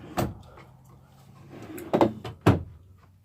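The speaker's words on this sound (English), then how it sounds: "All these drawers are full extension drawers." Full-extension drawers in an RV fifth wheel sliding and shutting, heard as a soft thump, then two sharper knocks close by in a quiet room.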